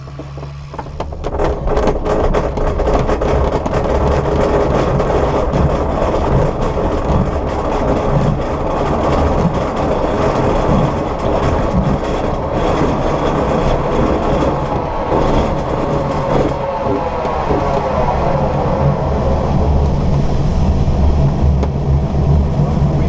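A light aircraft engine drones steadily and loudly on departure, a continuous close-up roar that holds throughout with a slight shift in tone partway through.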